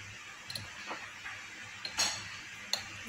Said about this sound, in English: now we put 2 scoops of sugar